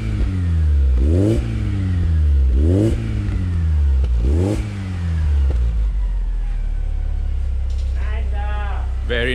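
A 2000 Alfa Romeo 146Ti 2.0TS engine is revved hard three times, its exhaust rising and falling in loud sweeps before settling to a steady idle, with brief talk near the end.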